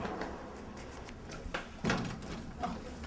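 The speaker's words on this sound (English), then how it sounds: "Open the door now." A door opens in a room with low background noise, marked by a few short knocks and handling clatters with a louder thud near the middle; no voices are heard.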